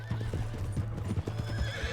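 A horse neighs and whinnies while hooves clip-clop in a quick rhythm, with a steady low hum underneath, in the video game Red Dead Redemption 2.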